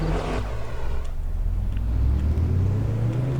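Video-game ZiU 9 trolleybus pulling away under throttle, a steady low electric motor hum and rumble rising slightly in pitch as it speeds up, close and constant.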